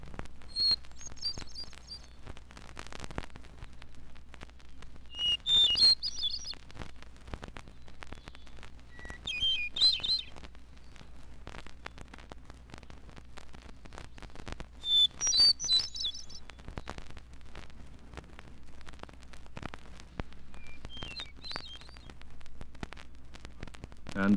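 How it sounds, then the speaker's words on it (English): A hermit thrush sings, a clear, fluty, varied phrase repeated every few seconds with quiet pauses between, heard close and alone over faint background noise. "It's my own favorite, the hermit thrush."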